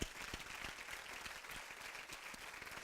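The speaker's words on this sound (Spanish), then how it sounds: "haz un aplauso al Señor" A church congregation applauds during an evening fasting service, a faint, distant patter of many hands clapping continuously with no voices.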